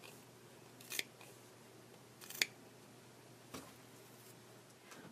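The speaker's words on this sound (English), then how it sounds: "It doesn't hurt to cut away some of the bulk of the fabric." Scissors snip fabric for doll shoes in two or three crisp, separate cuts spaced a second or so apart, set against a quiet room hum.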